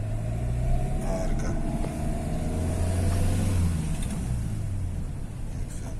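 A car pulling away from a stop during a driving lesson, with a steady low engine drone that swells slightly as it moves off, heard from inside the cabin while a voice briefly speaks.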